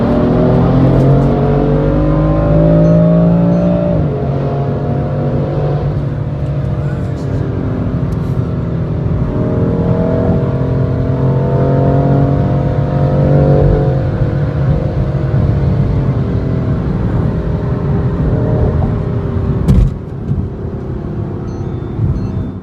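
A BMW M4 engine revs and accelerates with a deep, loud exhaust drone, rising in steps through gear changes, heard from inside the car with a voice talking over it.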